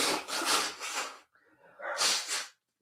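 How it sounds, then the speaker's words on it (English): A person blows their nose at close range, two bursts of broadband honking and snuffling air separated by a brief quiet gap, loud and unaccompanied by speech. "I'm blowing my nose."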